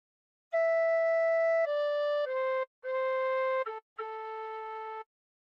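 A recorder plays a short, slow phrase of the hymn Nearer My God to Thee, clear sustained notes each held steadily, with brief breaths of silence between some notes.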